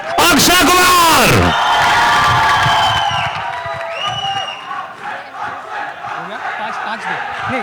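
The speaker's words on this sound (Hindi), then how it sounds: "बेटा प्रभुदेवा, जोरदार तालियां।" A crowd at a film trailer launch for Singh Is Bling roars with cheers, whoops and shouts, loud at first then settling into continuous excited crowd noise with voices mixed in.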